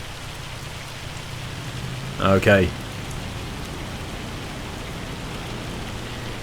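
Hail pattering steadily in Farming Simulator 25, a soft, even hiss that runs throughout, with one brief spoken word partway through.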